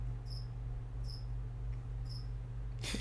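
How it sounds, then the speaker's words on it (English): Crickets kept as lizard feed chirp in short, evenly spaced bursts about once a second against a steady low hum, ending with a brief noise at the close. "I love that you got crickets."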